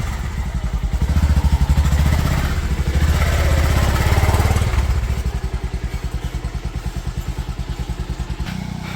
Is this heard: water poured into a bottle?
no